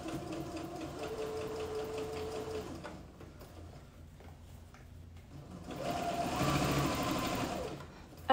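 A Quantum Stylist sewing machine stitches fabric for elastic shorts in steady whirring bursts, pausing in the middle before running again, fairly quiet with no talk.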